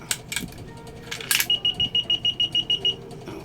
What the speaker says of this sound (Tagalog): 10 times din siyang nag-beep.